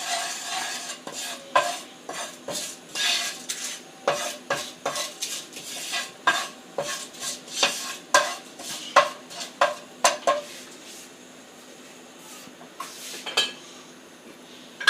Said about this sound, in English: just give this a gentle stir and heat it for 1 to 2 minutes